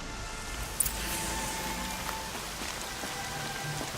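Heavy rain in the video game Horizon Zero Dawn, a steady dense hiss of drops hitting surfaces that holds throughout with no talk.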